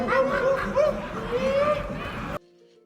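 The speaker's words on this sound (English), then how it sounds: "Barking baboons" CGI baboons in the film Gladiator II bark in short harsh bursts, overlapping with loud shouting voices, before the sound cuts off abruptly.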